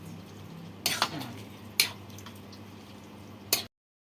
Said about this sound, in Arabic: هندي تقليبه بقى كده ونسيبها لغايه ما تغلي غلوتين